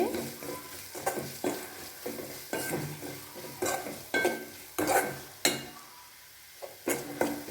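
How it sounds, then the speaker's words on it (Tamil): Onions or meat base being stirred with mutton masala in a frying pan, repeated scraping spoon strokes against the metal over a continuous close sizzle, with no talking. "கொஞ்சம் மட்டன் மசாலா போட்டு ரெண்டு பெரட்டு பெரட்டி விட்டுங்க"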